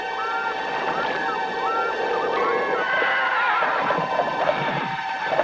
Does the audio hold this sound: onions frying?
no